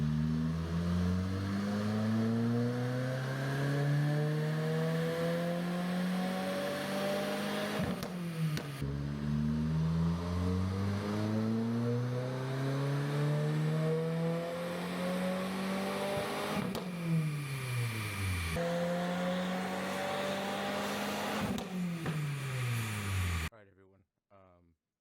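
A car engine fitted with a Perrin turbo inlet revs hard on a dyno during a Stage 1 tune, with three long rising wide-open pulls each ending in an abrupt drop, loud and close, then silence at the end.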